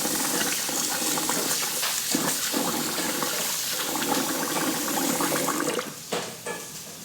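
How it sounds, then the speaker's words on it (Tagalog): Rice being washed in water for champorado, with a steady close rush of running water and sloshing that eases off near the end into a few splashes. "So guys, hugasan na natin ang ating bigas."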